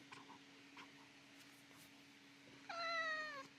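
A cat gives one clear, drawn-out meow near the end, after a few seconds of quiet room hum with faint small noises.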